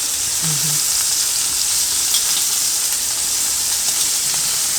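Hot grease sizzles steadily in a pan while duck cooks, a dense, continuous frying hiss close to the mic with no talk over it.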